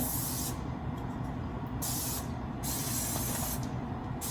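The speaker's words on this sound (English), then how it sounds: "Oh, I'm going to spray on the parchment." Cooking spray hisses from an aerosol can onto parchment paper lining a basic 9x5-inch metal loaf pan, a steady close spray lasting several seconds with short breaks between bursts.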